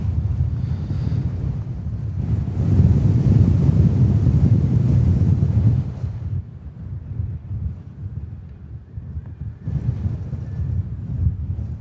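Strong storm wind at Manchester Airport roars and buffets the microphone in loud, low rumbling gusts that surge and ease, close and continuous with no talking.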